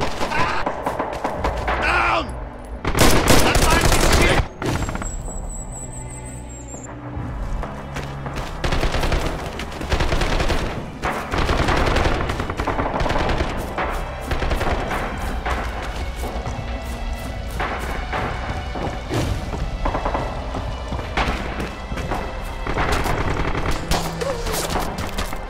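Gunfire from the World War II shooter Red Orchestra 2 in multiplayer combat: dense, continuous fusillades of rifle and machine-gun shots with heavy thuds and explosions, loud and sustained throughout, with a few voices under the din.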